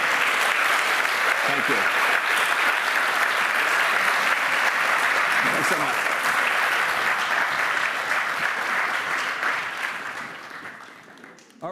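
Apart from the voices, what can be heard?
audience applause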